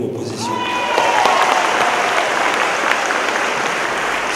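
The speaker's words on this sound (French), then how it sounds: "Vous avez applaudi tous les élus" An audience applauds the newly elected municipal council members, majority and opposition alike, at a council investiture in Morne-à-l'Eau; sustained, dense clapping fills the room with a faint tonal whistle early on.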